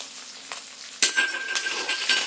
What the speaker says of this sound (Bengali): এবার দিয়ে দেবো এখানে জিরে, ধনে আর শুকনো লঙ্কা বাটা